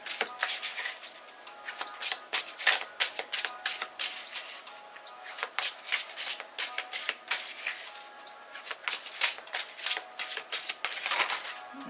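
Tarot cards riffled and shuffled repeatedly in quick bursts of crisp, papery flutter, close up, with brief pauses between rounds and no talking.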